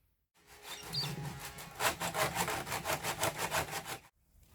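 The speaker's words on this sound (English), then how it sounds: "I'll just run some sandpaper through each of them to clean them up" Sandpaper is drawn back and forth through grooves cut in reclaimed perspex, making about a dozen quick, even rasping strokes, close and fairly quiet, with silence before and after.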